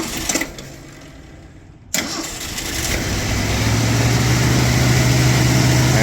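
A 1980 Mercury Capri engine cranks briefly, goes quiet, then fires and catches into a steady, loud idle that settles and holds, close by.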